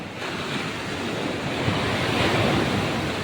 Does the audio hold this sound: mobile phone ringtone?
no